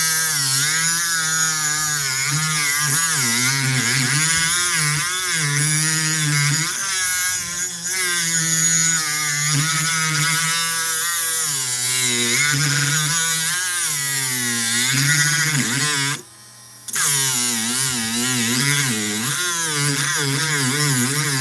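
An angle grinder whines loudly and continuously as it bites into chrome-plated metal with a small disc, its pitch wavering with pressure and dropping out briefly once before resuming.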